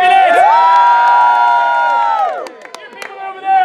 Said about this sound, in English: Cheer for the Capulets!